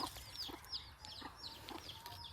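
A Rhode Island Red hen clucks in short, repeated bursts nearby, a few soft calls spread over a couple of seconds against quiet outdoor background.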